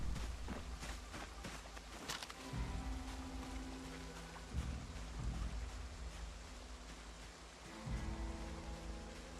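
Steady rain at night in the video game Project Zomboid forms a dense, even hiss throughout, with scattered soft thumps and low intermittent hums underneath and no talk.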